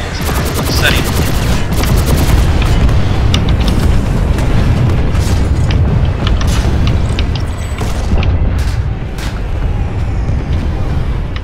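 Missiles launching and exploding during an aerial fight with an enemy gunship in a game, a loud continuous roar of blasts and rumbling booms packed closely together with no clear pauses.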